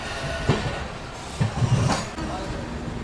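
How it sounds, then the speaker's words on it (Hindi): An Amrit Bharat Express passenger train overtaking another express outside Patna Junction, with a steady loud rumble and repeated clickety-clack of wheels over rail joints, heard nearby with speech over it. "तो यहाँ देखो पटना जंक्शन के आउटर में अमृत भारत ओवरटेक मारते हुए निकल रही है आगे टाटा नगर बक्सर एक्सप्रेस को"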